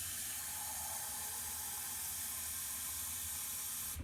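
Water runs steadily from a sink tap into a two-cup measuring cup, a soft continuous hiss and splash at low level with no one speaking.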